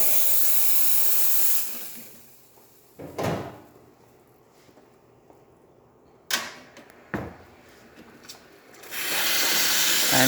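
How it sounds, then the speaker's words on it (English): The steam wand on a freshly serviced Profitec Pro espresso machine hisses loudly, falls quiet, then gives several short knocking bursts before a second long, strong steam hiss at the end. "The steam having a really good pressure coming out from the one."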